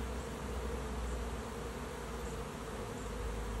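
Honey bees moving into a swarm trap make a dense, constant buzzing drone, close and steady throughout with no voices.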